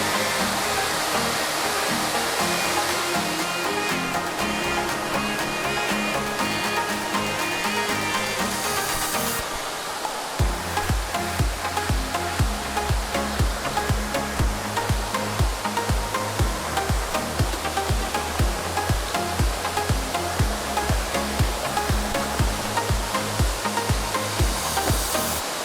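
Waterfall at its base in Manyueyuan National Forest, a loud, steady broadband rush of falling water heard up close, with a rhythmic musical backing joining partway through.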